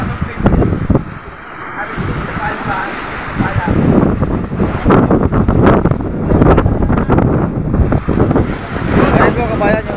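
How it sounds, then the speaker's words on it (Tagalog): Strong wind roars into the microphone as rough sea waves crash during Typhoon Tino near sunken boats, loud and blustery throughout, with someone talking over it. "Ayan ang kabayan, kita nyo ang alon"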